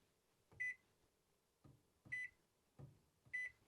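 A microwave oven control panel in a motorhome gives three short, clear electronic beeps, evenly spaced about a second and a half apart, each preceded by a soft button press, close and quiet.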